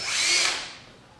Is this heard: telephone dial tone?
no